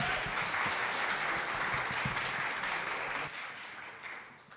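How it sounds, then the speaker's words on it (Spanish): An audience gives applause for Gustavo at a talk on AI cyberoperations, a fairly quiet, distant patter of many hands that fades down partway through and trails off softly. "les pido un fuerte aplauso para Gustavo, por favor"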